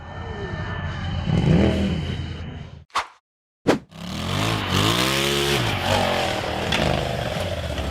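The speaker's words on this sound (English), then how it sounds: "The buggy accelerated hard up the steep dirt wall." An off-road buggy engine roars hard as it climbs a steep dirt wall on a hill climb, loud and rising, cut by a brief dropout and then a strong revving surge with pitch sweeping up and down.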